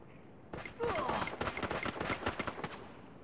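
Gunfire in the Free Fire battle royale video game: a rapid, loud burst of automatic shots that starts abruptly and rattles on for a few seconds.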